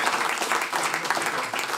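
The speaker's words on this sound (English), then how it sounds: "Give them a warm applause" Steady applause from a festival audience at a SXSW 2022 session, dense continuous clapping at moderate loudness with no voices over it.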